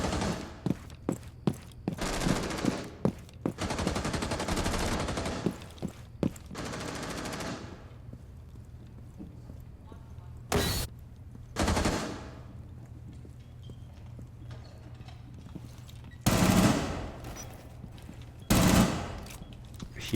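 Automatic gunfire from Rainbow Six Siege, several loud bursts and single shots in the first half, then isolated sharp reports with pauses between them, fired through smoke at a shield-carrying operator.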